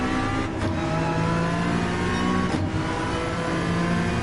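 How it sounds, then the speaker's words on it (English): Honda NSX engine revving hard in Gran Turismo 7 at the Nürburgring, a loud, sustained mechanical drone climbing and holding in pitch with two brief gear-change dips, no talking over it. "Rev out this NSX a little."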